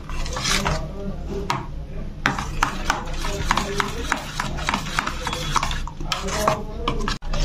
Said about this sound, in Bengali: এবার এই সবগুলো দিয়ে খুব ভালো করে এটাকে মিশিয়ে নিতে হবে।